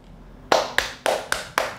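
Five sharp hand claps ring out in an even rhythm after a short quiet lead-in, close and distinct, clapped for a BBC micro:bit to count.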